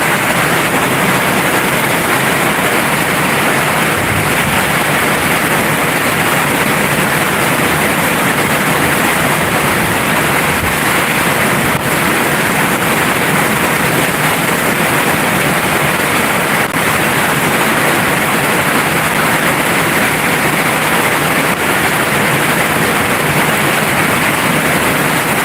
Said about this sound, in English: it is a fucking downpour.